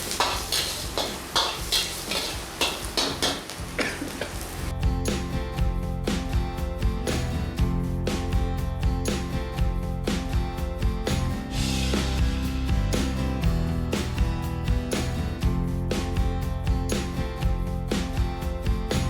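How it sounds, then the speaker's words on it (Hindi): Spicy chillies fry in a pan for a Chinese dish, a steady loud sizzle with stirring and scraping of a utensil against the metal running throughout, busier and brighter in the opening seconds. "तो इसको थोड़ा फ्राई करेंगे।"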